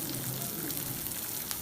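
Chopped onion and green chillies sautéing in a hot pan with oil for cabbage poriyal, a steady soft sizzle and crackle running evenly throughout, fairly quiet with no voices.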